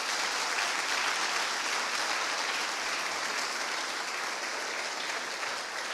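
A church congregation claps long and hard during a worship service, a dense, even wash of applause that holds steady for the whole stretch without any break.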